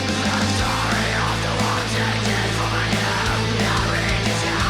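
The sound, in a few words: reverb of a recreated basic hall space in a mix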